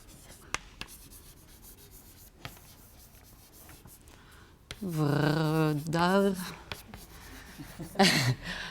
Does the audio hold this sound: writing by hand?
yes